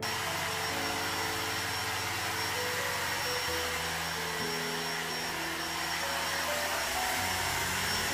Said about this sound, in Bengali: তো ভাবলাম একটুখানি হেয়ার ড্রাই দিয়ে মাথাটা একটুখানি হালকা করে জলটা শুকিয়ে ফেলি